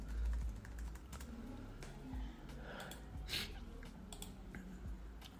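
Typing on a computer keyboard while entering a command in a terminal, a quiet run of close, irregular key clicks over low background noise with a faint breath or two.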